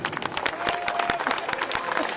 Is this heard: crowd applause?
yes